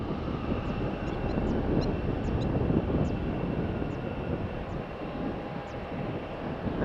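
An Airbus A320 at Faro Airport gives off a steady, loud jet-engine roar that holds evenly throughout, with faint wind noise and no talking.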